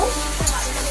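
Spices (coriander and cumin) being stirred in a hot pan for a chorchori, with a steady sizzle under repeated scraping strokes of the spoon, close and fairly loud.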